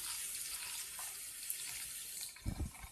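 A kitchen or bathroom tap runs steadily while a synthetic wig is washed under it. The stream hisses evenly, then a few louder splashes and thumps come near the end.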